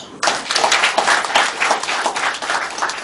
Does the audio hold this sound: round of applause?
yes